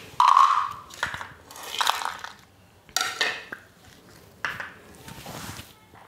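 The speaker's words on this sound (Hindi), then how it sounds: "हमने एक जार ले लिया है और इसमें डाल देंगे हम काजू" Handfuls of cashews dropped into a grinder jar, several bursts of clattering rattles against the container separated by short quiet gaps, heard close up.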